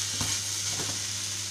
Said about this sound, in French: On va faire revenir encore la viande pour qu'elle se mélange bien dans les épices qu'on a mis.